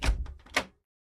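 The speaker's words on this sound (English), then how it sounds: "Suddenly the door opened." A door opening: a quick cluster of wooden knocks and a rattle lasting under a second, followed by silence.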